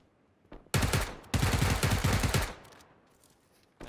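Rapid automatic gunfire in two loud, close bursts of repeated shots, separated by a brief pause and trailing off into echo.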